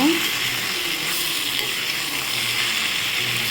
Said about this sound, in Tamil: தேங்காயெலாம் போட்டு நல்லா வதக்கி வச்சு பாருங்க